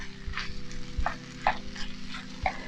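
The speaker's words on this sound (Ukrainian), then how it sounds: "Гарно її перемішуємо з овочами та грибами." Pearl barley being stirred into a pan of frying vegetables and mushrooms: soft sizzling underneath with several close scraping and clacking strokes of a spoon at an irregular rhythm.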